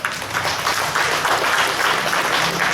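Loud, steady applause from an audience at an intercultural bilingual education gathering in Puerto Bermúdez, a dense wash of clapping sustained for about three seconds with no pauses.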